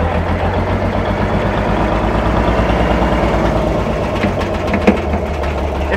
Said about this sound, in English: It's ticking. That noise is the fan clutch rattling.